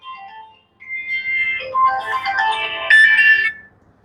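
A phone plays a bright electronic ringtone melody, rising in volume over a few seconds before cutting off as the call is answered.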